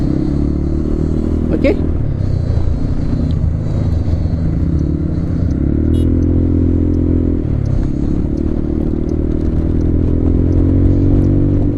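A Zontes 368G motorcycle weaves through city traffic, its engine a steady, loud drone with shifting revs and a brief clatter mid-ride, constant throughout with wind rumble.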